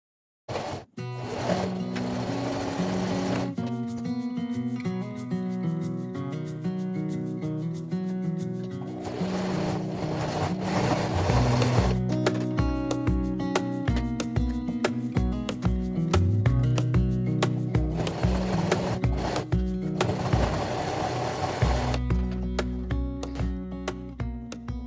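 A sewing machine stitches a quarter-inch seam on a fabric storage pod in long, fast, steady runs broken by brief pauses, close and clear with no talk.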